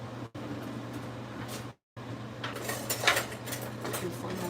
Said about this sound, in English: I'm going to whisk it up just like so